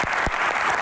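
Audience applause for a male guest as a televised Q&A episode in a village setting wraps up: a dense, steady clatter of many hands, loud and close, filling the whole brief moment without any voices.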